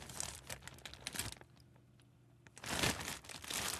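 Fred McGriff baseball cards are handled close up, quiet crinkling and rustling of cards and plastic sleeves in bursts with a brief lull in the middle.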